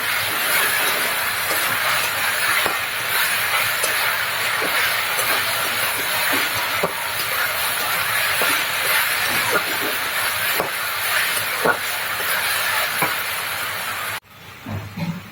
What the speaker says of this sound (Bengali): আলুটা আগে ভেজে নিচ্ছি পেঁয়াজ আর কাঁচামরিচ দিয়ে।